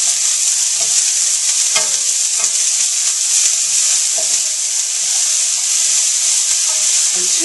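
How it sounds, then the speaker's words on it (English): Onions saute in a hot pan with a loud, steady, bright sizzle that runs continuously from start to end, broken by light stirring and scraping taps, with no talking over it. "I'm just going to saute these onions around"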